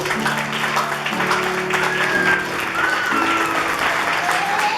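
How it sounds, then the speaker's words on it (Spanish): Church congregation clapping loudly during a Sunday service, a dense continuous wash of applause with sustained musical tones and faint voices underneath. "Denle un aplauso fuerte a Dios."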